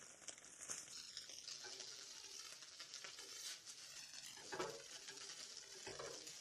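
Buttered food reheating in a frying pan gives off a soft, steady sizzle with faint crackles, quiet and close, over a low background hiss.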